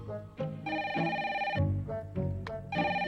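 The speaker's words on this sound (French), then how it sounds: "Un autre appel?" A telephone rings with an incoming call, repeated bursts of a bright electronic bell-like ring separated by short gaps, close and clear with no one talking.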